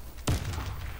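A grenade blast in the shooter game Warface on the Bazar map, one sharp loud thump with a short low rumble tail, standing alone in a quiet stretch of play.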